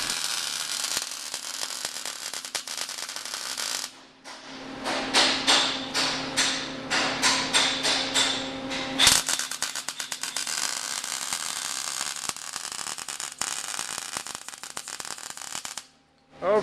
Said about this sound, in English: He's just finishing the welding to this new side member.